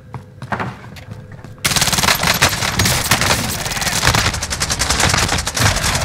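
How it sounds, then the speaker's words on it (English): A precision airstrike lands in Call of Duty: Warzone, a sudden loud wall of rapid blasts and crackling explosions that begins after a quieter opening and rolls on nonstop to the end. "friendly precision airstrike inbound."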